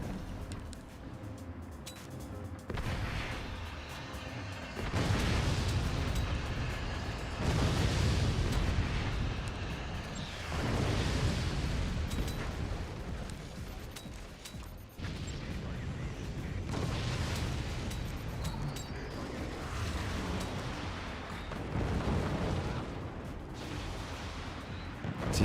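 A structure being blown up in the Forts naval RTS game, heard as heavy, rumbling explosions that swell and fade in long overlapping waves of booming noise.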